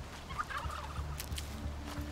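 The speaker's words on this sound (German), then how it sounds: "da vorne ein Truthahn" Turkey gobbling in the game Horizon Zero Dawn: a few quick gobbling bursts over steady low background ambience, moderately close, with no voices.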